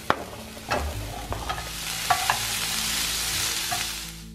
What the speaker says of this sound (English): I just saute the onions for a few minutes,